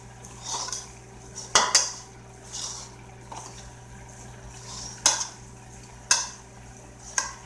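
Utensil scraping and clinking against a pot as home-cooked lunch food is mixed, several sharp metallic knocks spaced irregularly over a low steady kitchen hum, close and moderately loud with no talking.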